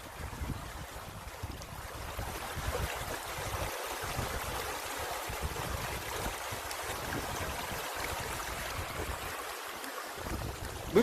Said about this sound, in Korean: 물건지 앞쪽으로는 개울물이 잘 흐르고요